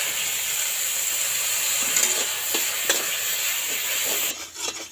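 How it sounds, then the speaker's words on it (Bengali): Sugar and water cooking into caramel in a pan, giving a steady bubbling hiss with a few soft scraping stirs, then the sizzle drops away near the end. "এটা নাড়িয়ে চাড়িয়ে কিন্তু একটু ক্যারামেল তৈরি করবো"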